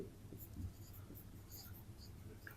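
Pen writing math on paper, a faint, close scratchy scribbling in short strokes, quiet and continuous with no voices over it.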